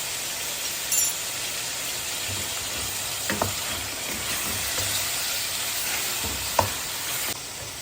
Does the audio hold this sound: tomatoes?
yes